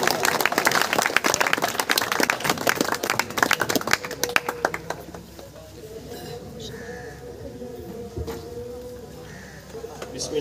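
Enthusiastic audience applause at a farewell and welcome ceremony, dense loud clapping for about five seconds that then fades into quieter room sound with scattered claps and murmuring.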